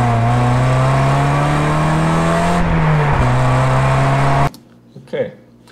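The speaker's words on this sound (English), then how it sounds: "So the good thing about road noise is it's pretty predictable." Steady low road rumble and tyre drone inside a moving car, loud and continuous with a faint engine hum, shifting slightly midway before cutting abruptly to near quiet with a couple of soft knocks.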